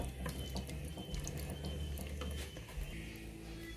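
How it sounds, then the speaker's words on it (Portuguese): Water streams steadily from a tap into a cooking pot holding chicken breast fillets in sauce, a continuous close splashing pour with a slight shift in tone near the end, no talking. "Colocar mais um pouco de molho e aí eu coloco água."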